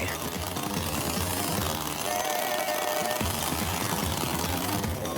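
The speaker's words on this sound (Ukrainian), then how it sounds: "світовий рекордсмен із підкидання бензопил, причому увімкнених" Three running gasoline chainsaws tossed and caught in a world-record juggling attempt give a loud, continuous, raspy engine buzz that stays steady throughout with no voices.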